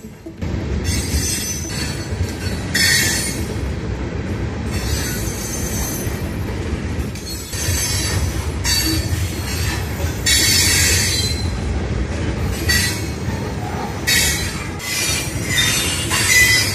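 A train rumbles past in Coatzacoalcos, southern Veracruz, Mexico, with a steady low roar, metal wheels squealing in bursts and faint clacking over the rails, loud and continuous with no voices.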